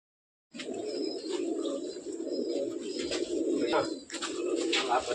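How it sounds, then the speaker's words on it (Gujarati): Sick pigeons in an animal shelter ward coo steadily as a group, a continuous low burbling chorus close by, with a few brief higher chirps and rustles and a short dip near the end. "આ બધા કબૂતરો છે ને આ બધા અત્યારે બીમાર પડી"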